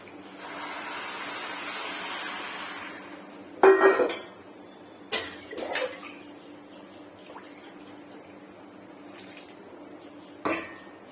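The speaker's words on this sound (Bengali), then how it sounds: "চাল ডাল ভালোভাবে ভাজা হয়ে গেছে, এতে আমি জল দিয়ে দিচ্ছি।" Water is poured over rice and dal fried in a pan, a soft hissing rush for a few seconds followed by sparse, sharp clanks of utensils against the pan in a quiet kitchen.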